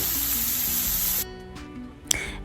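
Calamari and shrimp sizzle loudly in a hot pan with chermoula, onion and pepper. The frying hiss then cuts off sharply, and a few stirring clinks and scrapes follow.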